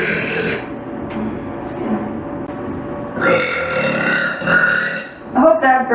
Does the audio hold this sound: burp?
yes